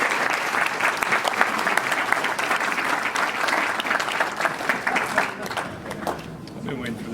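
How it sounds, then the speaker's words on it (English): A crowd applauds for Betty Meyer at an award presentation. The clapping is loud, full and continuous for several seconds, then thins and fades in the final stretch, leaving only scattered claps and faint murmurs. "If you would give Betty a round of applause"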